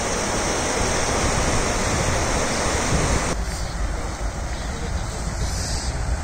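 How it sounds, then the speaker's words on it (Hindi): Dirty drain water gushes into the Ganga river, a steady, loud rushing roar close to the microphone, continuous throughout and easing slightly partway through. "गंगा जल में मिल रहा है नाले का गंदा पानी"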